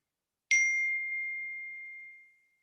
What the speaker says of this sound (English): I don't know how to mute these notifications